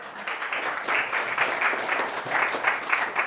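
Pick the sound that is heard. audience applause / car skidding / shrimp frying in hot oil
audience applause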